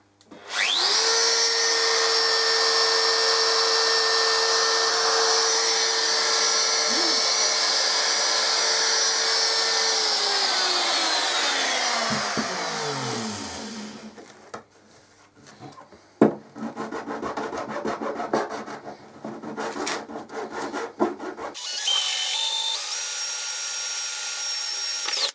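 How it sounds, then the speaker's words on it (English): A handheld router cuts a shape into a plastic chopping board, whining loudly at steady speed, then spinning down as it shuts off, followed by scraping and handling noises and a brief restart toward the end. "I'm going to use my router to route out the shape that I need"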